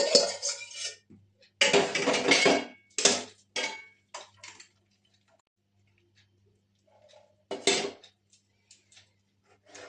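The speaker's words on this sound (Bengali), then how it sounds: "এবার এই ছানাটা আমি একটা ছাঁকনির মধ্যে ঢেলে দিয়ে জলটা থেকে আলাদা করে নেব।" Curdled milk chhana poured into a kitchen strainer to drain the whey, heard as several separate bursts of splashing pour and clattering of metal utensils, with quiet gaps between.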